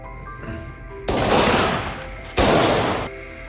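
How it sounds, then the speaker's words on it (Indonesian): Gunshots in a film scene, two loud broadband blasts about a second apart, each ringing on briefly before dropping to a quieter background. "Lalu tanpa basa-basi, Peter langsung menembak Nikolai."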